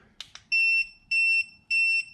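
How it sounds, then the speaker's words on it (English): An Arrma Fury BLX RC car's electronic speed control emits three evenly spaced, shrill electronic beeps, each about a third of a second long, following a couple of faint clicks. "It was 2 beeps, that was low setting for the DSC."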